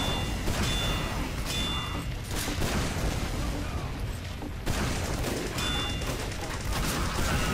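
Team Fortress 2 gunfire as a dense, continuous barrage of booming shots and blasts, loud and steady throughout, with only brief dips.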